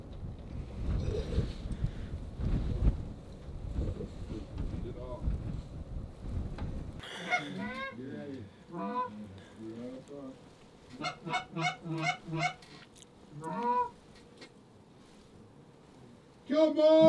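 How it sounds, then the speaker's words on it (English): Wild geese honk as they fly in toward a hunting pit blind on a windy day, a run of repeated calls after a stretch of gusty wind noise, with a burst of louder honking at the end. "It sounds like we have more geese coming"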